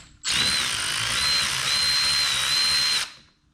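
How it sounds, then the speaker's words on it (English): A power tool spins out a 10mm bolt on a Subaru WRX EJ engine, one steady whirring burst of about three seconds, close and alone with no talk. "let's get that 10mm bolt out"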